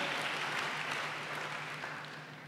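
A church congregation claps together in a steady wash of applause that fades slightly toward the end, heard without voices over it.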